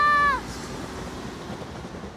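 A train horn blasts briefly, then a loud, steady rumble of a train rolling past close by.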